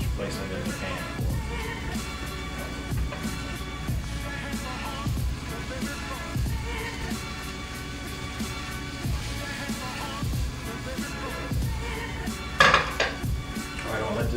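Vegetables cooking in a pan as metal utensils scrape and clink against cookware, a busy close rhythm of stirring knocks over a low frying hiss, no speech.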